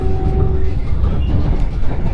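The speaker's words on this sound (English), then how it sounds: "I'm on the train." The inside of a moving New York subway car, with a loud, steady rumble and rushing roar, plus a brief high tone at the start.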